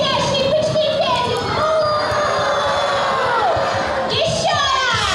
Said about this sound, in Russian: А давайте все дружно вместе позовем нашего бычка Федю!